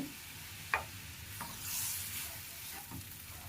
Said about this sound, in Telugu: ఇది వేసేసుకోవాలి ఇదంతా ఇలా కలుపుకోవాలి